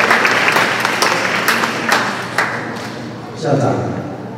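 Audience applause at an evening parent-principal meeting of a junior high school, a steady sustained clapping from a seated crowd that fades slightly, then swells again near the end.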